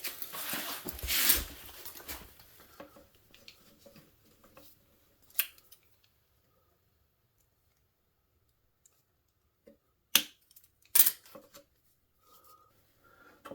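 Zip ties being snipped while working on a Chinese 70cc ATV, a few quiet clicks and snaps separated by long pauses, with a louder rustle early on and two sharp cuts near the end.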